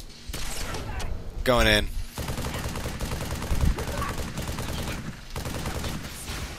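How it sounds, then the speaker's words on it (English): Game gunfire from Halo 3: ODST, aimed at a Brute: dense bursts of shots run through the whole stretch, with a louder burst near the start, under brief speech. "I'm gonna shoot the brute in the back of the head."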